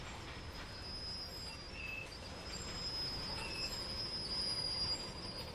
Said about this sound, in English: This is the last boxcar, so I'm gonna put the brakes on.